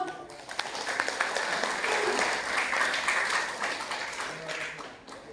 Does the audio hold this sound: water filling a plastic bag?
no